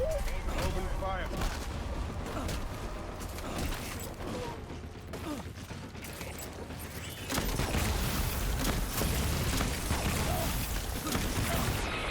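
Sustained gunfire from the video game Death Stranding, dense bursts and rattling shots running loud throughout, growing heavier and fuller in the second half, with a voice speaking over the noise.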